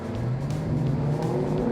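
Instructor's car revving hard as the driver downshifts on a cone-lined driving course, a steady rising and falling engine note with slight tire noise, close and loud throughout.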